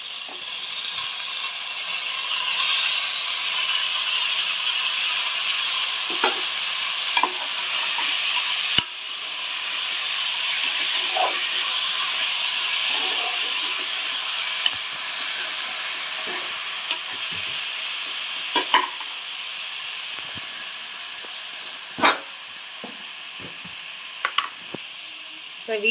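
Mutton frying with onions and tomatoes in a pan gives a steady hissing sizzle, broken by occasional sharp clinks and scrapes of stirring; no one speaks.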